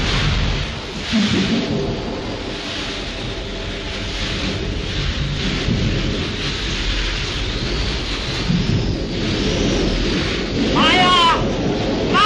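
Thunderstorm at night in an old film scene: steady heavy rain and wind roar throughout with rolling thunder rumbles, loud and close, with faint voices briefly under the storm.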